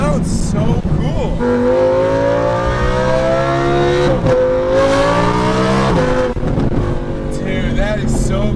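A Lamborghini Huracan LP610-4 engine revs loudly and up close in the driving game throtl, holding steady high-pitched tones with sharp drops and climbs as revs change. Excited speech runs over it.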